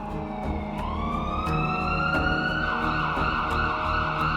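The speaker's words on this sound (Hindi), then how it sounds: "सड़कों पर एम्बुलेंस की गाड़ियां दौड़ने लगती हैं।" Ambulance sirens wail through the streets of Beirut, a steady rising and falling electronic tone carried loud and continuous amid city noise, with no voices.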